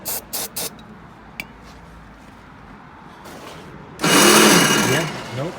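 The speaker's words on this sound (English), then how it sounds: "can we spray go-go juice in there?" Lubricant sprayed from an aerosol can into a stuck gear of a Toro snowblower, a loud hissing burst lasting about a second and a half, following a few short clicks and faint background talk.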